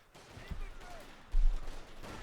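Pak 40 howitzer artillery firing in the game Company of Heroes 2, a few booming shots, one heavy blast standing out, under a commentator's talk.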